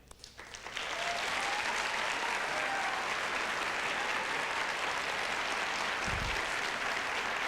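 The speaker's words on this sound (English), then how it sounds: "I did hear a whistle on that applause" Sustained crowd applause at a high school quiz competition between Alvirne High School and Pinkerton Academy, loud and dense after a quick build-up, with a brief whistle cutting through near the end.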